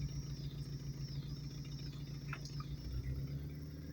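A car engine idles steadily while in neutral, its computer raising the idle, a low even hum near the microphone, quiet and unbroken, with a few faint squeaks on top.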